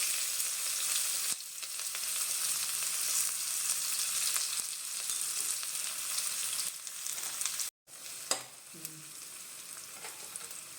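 Onions and cumin seeds fry in hot oil for Gobi rice, a steady close sizzle with occasional stirring knocks and a brief cut partway through.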